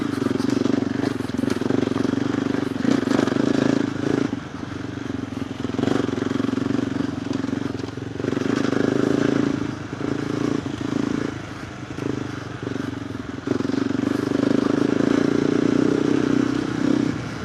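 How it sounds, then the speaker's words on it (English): A KTM 390 Adventure R motorcycle fitted with a Norifumi Whoops aftermarket exhaust runs steadily while being ridden, a loud continuous engine drone that swells and dips with throttle changes, mixed with wind and rider-perspective noise. "I don't know if you can hear the exhaust."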